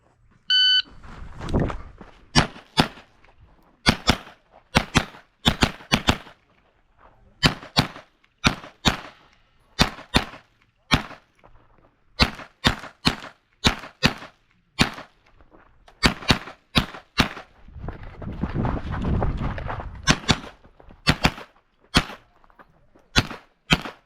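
At a rifle match, a shot timer beeps and a Kel Tec CP33 fires a long string of loud, sharp shots in quick bursts with short gaps, plus some handling noise between strings.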